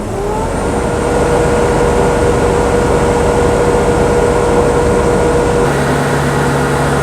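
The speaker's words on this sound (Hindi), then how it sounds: "ये गाड़ी को हमने स्टार्ट कर दिया है और स्टार्ट करने के बाद इसको फुल रेस करेंगे।" A BS4 vehicle with NOx sensor fault codes 2771 and 3583 is started and held at full throttle, making a loud, steady engine roar up close that holds level and then eases slightly near the end.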